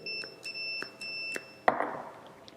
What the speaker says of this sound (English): And here it is beeping because I'm checking this switch